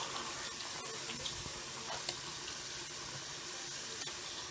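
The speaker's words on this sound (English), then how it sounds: "Turn on the cold water and just get all the soap suds out." Cold water runs steadily from a sink tap while soap suds are rinsed out of a synthetic wig, a continuous close splashing flow with no voices.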